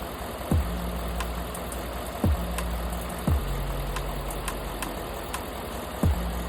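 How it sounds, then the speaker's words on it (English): Idling Ford F-150 5.0 V8 with a cylinder 6 misfire, a close, steady low rumble punctuated by four distinct stumbling drop-outs at uneven intervals, with no voices. "I ended up getting a cylinder 6 misfire, and as you can see, it's dropping out right now."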